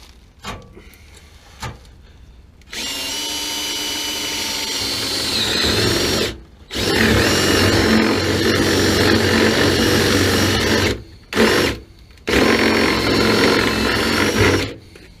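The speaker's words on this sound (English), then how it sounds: "When in doubt, drill it out." A power drill bores out parts of a rain- and sun-damaged GE water heater, whirring loudly up close in several long runs broken by short pauses and one quick burst.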